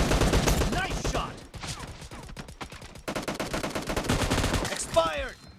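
Rapid gunfire from a shotgun in a PUBG Mobile team deathmatch on the Library map, with sharp repeated blasts in quick bursts over busy game noise, a brief pause, then more shots and a voice.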